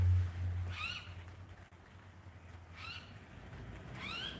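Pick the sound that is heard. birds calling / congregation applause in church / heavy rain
birds calling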